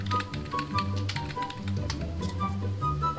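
Fast, close keyboard typing, a burst of crisp irregular taps over a constant low hum of game audio.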